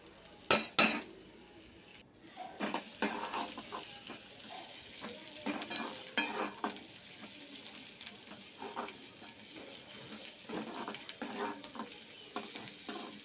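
Dried red chillies sauté in a pan for a tomato greens dish, a soft sizzle under frequent scraping and clinking of a spoon against the pan.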